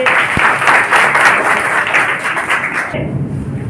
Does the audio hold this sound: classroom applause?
yes